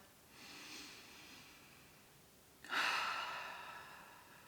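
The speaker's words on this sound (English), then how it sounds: "Take a deep breath." Two audible deep breaths: a soft, slow inhale early on, then a louder, fuller breath that swells and holds for a couple of seconds, close and with no talking.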